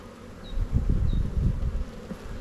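Honeybees buzz loudly and close as a hive frame is shaken off in spring, a dense swelling hum with bursts of louder buzzing.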